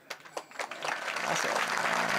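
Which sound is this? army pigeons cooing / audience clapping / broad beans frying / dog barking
audience clapping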